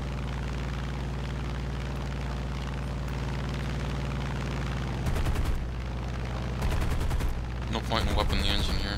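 An F4U-1D Corsair fighter in War Thunder drones with a loud steady engine roar, broken by three rapid bursts of machine gun fire near the end, each burst a dense rattling stream.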